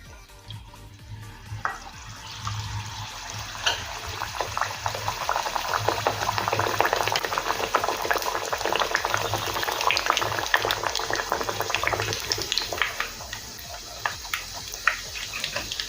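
Stuffed pea kachori frying in hot oil on a medium flame, a close, continuous crackling sizzle that swells after the dough drops in and keeps bubbling steadily throughout.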